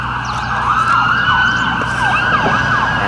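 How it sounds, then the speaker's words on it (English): An ambulance siren wails close by outdoors in an urban street, its rising and falling tone steady and loud over low traffic rumble. "See? Ambulance?"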